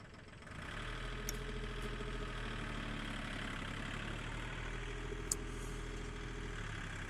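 A tractor engine idles steadily nearby, a constant low rumble with a couple of faint clicks on top.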